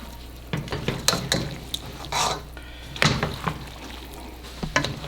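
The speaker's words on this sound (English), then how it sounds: "I think that's the sound of the spoon against the bowl." A spoon scrapes and clinks against a bowl while lemon pasta sauce is stirred, giving short irregular bursts of wet scraping and tapping at close range with no talking.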